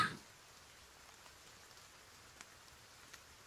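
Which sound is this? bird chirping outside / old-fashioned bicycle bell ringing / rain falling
rain falling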